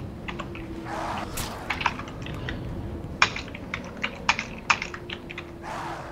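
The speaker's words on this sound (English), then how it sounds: "What are you typing?" Typing on a computer keyboard during a game session, a run of quick uneven key clicks with a few sharper louder taps, close by, over a low steady hum.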